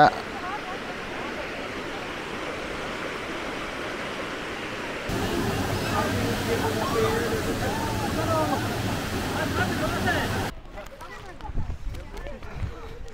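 Broad, steady rush of river water and waterfalls at Hogenakkal, continuous and fairly loud, shifting in intensity as the position changes, with crowd babble and voices mixed faintly underneath.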